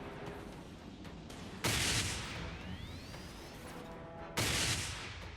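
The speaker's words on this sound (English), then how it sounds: "Activating primary weapons" Tesla turrets, a spaceship's primary weapons in the game Dreadnought, letting off two loud bursts of crackling fire with rising electronic whines between them over a steady low rumble, no talk.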